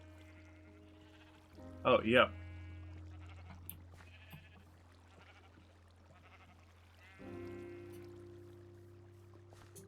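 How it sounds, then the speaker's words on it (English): A Minecraft sheep in the modded SevTech: Ages game gives a short double bleat, clear and close, over a faint ambient background, with someone speaking quietly later. "No, that's not a safe place to be, sheep."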